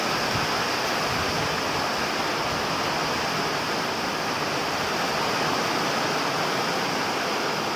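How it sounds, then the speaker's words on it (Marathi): Heavy monsoon rain pours down steadily on a terrace, a dense, loud, continuous hiss with no pauses and no voices. "पाणी पाणी होऊन जातं एवढा मोठा पाऊस येतोय"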